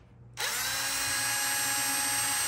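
A small power driver whirs continuously, close and fairly loud, after a brief quiet start as it backs a screw out of a T-nut on a leather cross-draw knife sheath.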